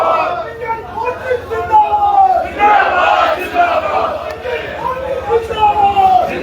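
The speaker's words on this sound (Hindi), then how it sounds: "पाकिस्तान के खिलाफ नारेबाजी" Protesters in Rajouri shout slogans against Pakistan, a dense crowd of raised voices chanting and yelling together in a continuous loud roar.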